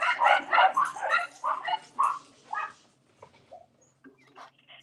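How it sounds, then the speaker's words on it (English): Several dogs bark in a quick burst of about seven sharp, close barks that then trail off into faint yips and whimpers. "Sorry, the dogs went crazy."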